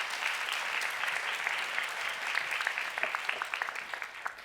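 An audience at a primary school graduation worship service applauds to welcome a pastor, many hands clapping in a steady, bright patter with some individual claps standing out near the end.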